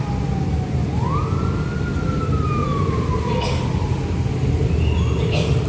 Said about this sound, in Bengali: অ্যাম্বুলেন্স আসতেছে মনে হয়